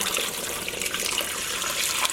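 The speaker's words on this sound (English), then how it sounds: "Okay, I'm coming in with another 8 cups of water" Eight cups of water poured into a pot of yarn for dyeing, a steady close splashing stream that runs unbroken for about two seconds with no voices.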